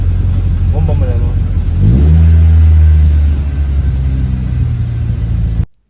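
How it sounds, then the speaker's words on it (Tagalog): A Honda Civic engine with an idle problem is revved up sharply from a low idle, holds a loud raised drone for about a second, then eases back down before cutting out abruptly; a voice is briefly heard early on. "Bomba mo na mo."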